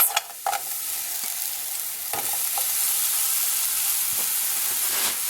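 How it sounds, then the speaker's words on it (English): Frozen onions dropped into a hot pan set off a loud, steady sizzle and hiss that holds for several seconds after a brief clatter at the start, with no voices. "We're going to start with a hot pan, and then we're going to add our onions."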